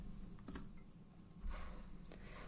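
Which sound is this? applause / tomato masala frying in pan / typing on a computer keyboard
typing on a computer keyboard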